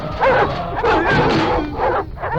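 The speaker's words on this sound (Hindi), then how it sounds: "भौंकना बंद कर।" A dog barks in a scene from a Hindi-dubbed South Indian action film. Loud, close barks and yips follow one another in a quick run, with a whimpering edge between them.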